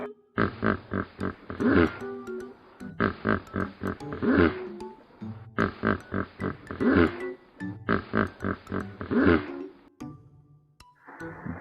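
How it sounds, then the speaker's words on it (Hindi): A hippopotamus gives four loud, near wheezing, honking bellow sequences, each a rapid run of pulsed grunts, with short pauses between them. "hippopotamus"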